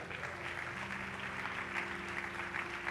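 Congregation applause during a church service, a faint, steady wash of clapping with a low sustained tone underneath and no clear voice on top.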